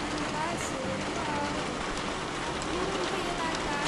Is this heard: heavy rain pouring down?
yes